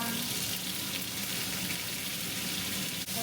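Tomatoes frying in a pan for spicy spaghetti make a steady, close, continuous sizzle that holds at an even level throughout.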